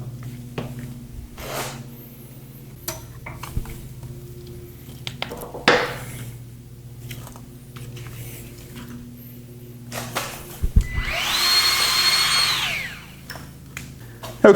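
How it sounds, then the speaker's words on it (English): A Milwaukee cordless grease gun whirs in a single sustained burst of a couple of seconds while greasing a Kubota BX mower deck, preceded by scattered clicks and handling knocks. "a couple second press of the trigger on my Milwaukee grease gun"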